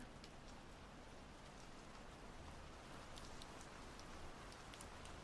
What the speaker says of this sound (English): The rain is pouring, and I do love the rain.